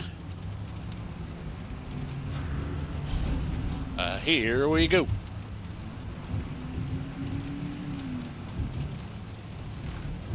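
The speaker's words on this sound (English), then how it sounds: "and we got a rain." Rain falls steadily with low rumbling thunder in the survival driving game Pacific Drive, a brief sweeping tone rising over it midway, while someone speaks briefly over the storm.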